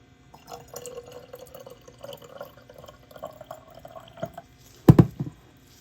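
Water trickles and drips into a measuring container while a stock solution for feeding plants is topped up to the 200 mark, soft intermittent pouring with a sharper splash near the end.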